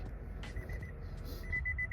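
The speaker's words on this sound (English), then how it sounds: "I'm sorry for the beeping. My car, it's very annoying." Faint electronic warning beeps from a car, a quick run of short evenly spaced tones, a pause, then another rapid series, quiet under low background rumble.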